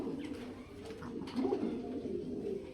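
Pigeons coo softly nearby, low throaty burbling calls repeating in a quiet room.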